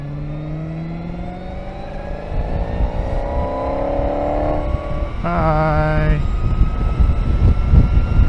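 An Energica electric motorcycle accelerates with a smooth electric whine that climbs steadily in pitch over constant road and wind rush, followed near the end by a brief burst of voice.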